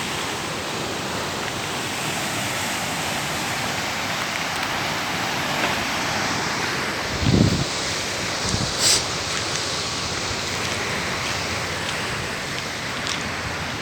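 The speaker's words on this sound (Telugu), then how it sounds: "చాలా ఫోర్స్గా పోతున్నాయి నీళ్ళు" Water rushes from Kanigiri lake in a steady, loud, continuous roar, with a couple of brief knocks partway through.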